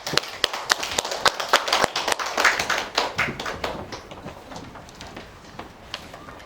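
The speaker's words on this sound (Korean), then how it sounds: "큰 박수 좀 부탁드리겠습니다" At an academic seminar on digital poetry, a small audience claps for a presenter: sparse, distinct individual claps that quicken briefly, then taper off into a few isolated hits.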